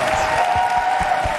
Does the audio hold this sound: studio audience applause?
yes